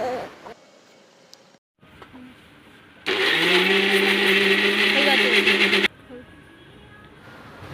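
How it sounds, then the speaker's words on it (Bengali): A kitchen mixer blends watermelon in one loud, steady whir lasting about three seconds, after quieter handling noises, then cuts off abruptly. "ব্লেন্ড করতে হবে তো মিক্সারে আমি নিয়ে নিয়েছি"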